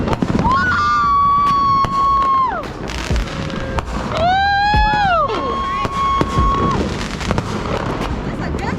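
Midnight fireworks burst and crackle continuously amid a cheering crowd, with loud whistling rockets rising and falling, booms and pops throughout, and people shouting over the display.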